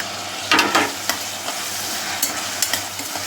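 Onions with ginger garlic paste sauté in a pan for jackfruit biryani, giving a soft, steady sizzle broken by several scraping stirs of a spoon against the pan.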